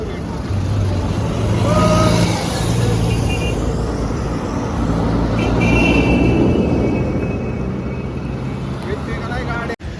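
Traffic rumbling past on the Bangalore highway, a continuous broad roar of cars and trucks with swelling passes, close and loud, with voices talking over it.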